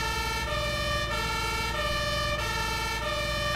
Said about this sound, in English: and turn the siren on number 2.